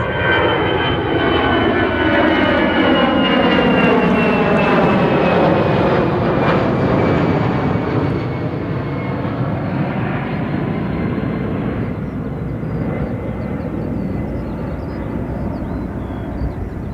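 An EasyJet Airbus A320 passes at Gatwick Airport with a loud, sustained jet roar and a sweeping whine that shifts in pitch as it goes by, fading slightly toward the end.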